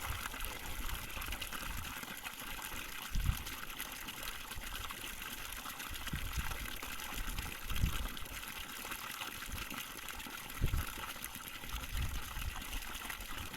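Water running from a newly drilled 98-foot borewell on farmland, a steady rushing flow with occasional low gushing thumps and splashes, fairly distant and even throughout.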